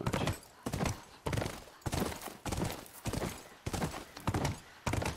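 Horse hooves clip-clopping in The Last of Us video game, a steady, even rhythm of close, crisp hoofbeats continuing throughout at moderate volume.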